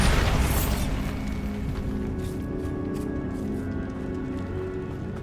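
A Bombarda spell explosion in Hogwarts Legacy bursts loud and close at the start, then rolls into a long, broad rumble of debris and noise that fades slowly over several seconds.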